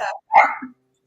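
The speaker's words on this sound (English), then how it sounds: "sorry, the dog." A dog gives two close, sharp barks, the second a little longer with a lower tail, separated by a brief pause and followed by silence.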